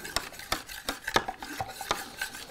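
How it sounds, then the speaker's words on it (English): Stirring an isopropyl alcohol hand sanitiser mixture, with a utensil knocking and scraping against its container in a quick, irregular rhythm of close clinks and swishes, with no talking. "Give it a stir."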